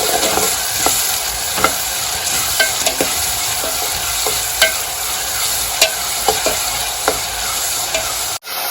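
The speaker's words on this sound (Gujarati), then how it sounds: "નાખી દીધી ડુંગળી આપણે ડુંગળી પકવી લઈ થોડી થોડી ચડી જાય" Onions frying in a pan for a village-style stuffed brinjal curry, a loud continuous sizzle broken by repeated scraping stirs, close up with no voices, cutting off abruptly near the end.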